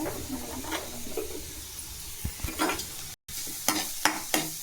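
Onions and paneer frying in a pan for a sandwich filling, a soft sizzle with scraping and stirring clinks of a spoon against the pan, close and quiet, without speech.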